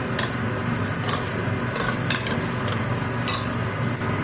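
Tomatoes and sautéed onions being stirred in a pot for tomato rice, with soft wet mixing and several sharp utensil taps against the pot, no voices.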